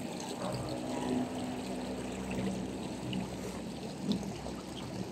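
A freshwater stream near a river in Quezon–Laguna, with water rushing and pouring steadily and fairly close, a continuous churning wash lasting the whole stretch with no voices over it.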